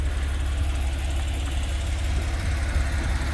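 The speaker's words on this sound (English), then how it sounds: "There's nothing like having the top down with that beautiful flat six engine just singing right behind" A 2009 Porsche 911 Carrera Cabriolet's flat-six engine runs steadily with a deep, even low rumble and no voices, heard continuously at close range.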